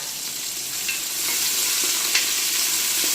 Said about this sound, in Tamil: இப்போ இது கூடவே வெங்காயத்தை ஆட் பண்ணிக்கலாம் பச்சை மிளகாய் ஆட் பண்ணிக்கலாம்